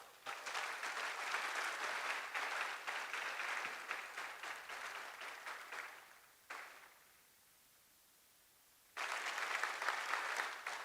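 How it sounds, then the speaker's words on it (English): Dense audience applause at the National Happiness Unicorn Awards ceremony, loud and sustained for about six seconds, dropping to near silence, then a second loud burst of clapping toward the end. "Can we please have a round of applause for them?"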